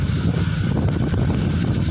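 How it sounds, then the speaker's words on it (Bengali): Cool wind after rain blowing steadily, a continuous low rushing roar buffeting the microphone throughout, with no voices. "খুব ভালো লাগছে ঠান্ডা ঠান্ডা হাওয়া"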